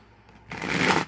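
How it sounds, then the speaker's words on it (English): Tarot cards riffle-shuffled in one quick, loud burst of fluttering slaps that starts about halfway through after a near-silent opening, close to the listener with no talking. "One more ruffle shuffle."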